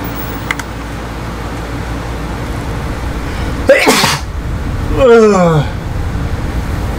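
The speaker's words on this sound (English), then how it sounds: "I had to sneeze." One sharp, sudden sneeze bursts out over a steady background hiss. A brief, falling vocal sound follows a moment later.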